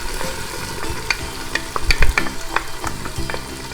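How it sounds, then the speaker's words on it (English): Onions frying in extra virgin olive oil in a pot, a loud crackling sizzle with scattered pops and a few stirring scrapes, close and continuous. "And now we put the onions in."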